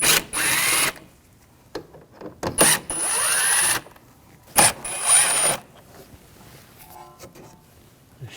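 A power tool with a T25 socket spins out screws on a 2006-2009 Audi S4, giving several short, loud whirring bursts close up, separated by quiet pauses and faint clicks.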